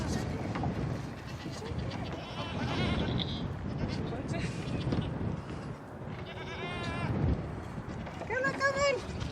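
Baby goats bleat repeatedly during bottle feeding, high wavering cries rising near the end over a busy background of people talking and moving about.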